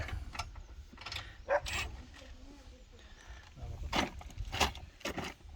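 A mechanic works screws loose with a ratchet on a DKV van in a scrapyard, giving short irregular clicking and metallic rattling bursts amid background noise and occasional voices.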